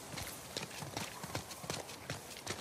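Quiet, rhythmic clip-clop of horse hooves trotting at a steady pace in the video game The Last of Us Part II, the beats evenly spaced and fairly faint.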